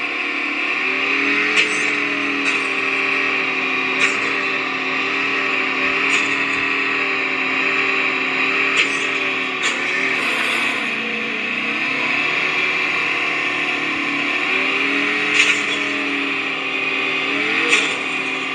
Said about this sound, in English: Driving around in these vehicles, super smooth.